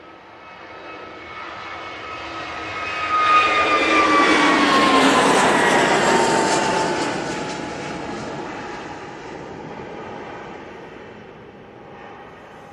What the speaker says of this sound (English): And here we go with that Jet 2.